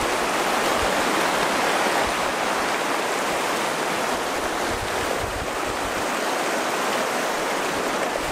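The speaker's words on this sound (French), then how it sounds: "donc traverser la rivière avec Léon." Rushing water flows continuously, a loud, steady broadband roar like a fast stream or nearby cascade, with no voices.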